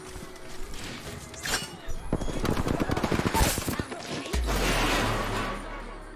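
Bursts of rapid gunfire in a shooter game, a close machine-gun-like rattle building in the middle, with other game noises around it.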